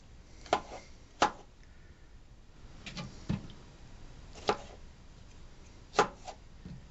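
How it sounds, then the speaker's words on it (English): Six sharp knife chops through tomatoes land on a cutting board at an uneven, unhurried pace, quiet and close, with near silence between them. "I'm chopping them into little smaller pieces"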